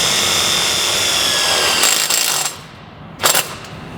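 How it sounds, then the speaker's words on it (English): A power driver runs a self-tapping screw into a metal plate on a chain link gate, giving a loud, steady whirring grind that cuts off, followed by a short second burst. "To fasten the plate to the gate itself, we're going to use self-tapping screws."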